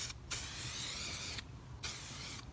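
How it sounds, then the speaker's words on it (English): A spray can laying down clear lacquer in close, loud bursts of hiss, two long sprays separated by brief pauses, with no talking. "now I've got to spray on a clear lacquer to it"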